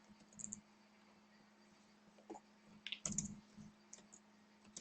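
A computer keyboard clicks as someone types while setting up a PostgreSQL connection in C#, with scattered, irregular keystrokes and a few clustered clicks, quiet and close, with no talking.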